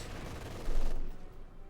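Sustained MG42 machine gun fire from a Company of Heroes 2 battle: dense, rapid bursts that swell louder midway, then thin out, with no talking.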